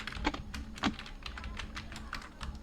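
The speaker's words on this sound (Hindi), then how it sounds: "कीबोर्ड से विंडो के साथ हम आर को प्रेस करेंगे।" Keys on a computer keyboard pressed for a Windows+R shortcut, with steady, close clicking taps over a low background hum.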